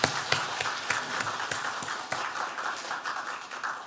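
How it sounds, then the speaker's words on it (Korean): A church congregation claps for its organist's graduation, a loose patter of hand claps from a room full of people, fairly faint and fading over a few seconds. "우리 박수로 축하해 주시기를 바랍니다."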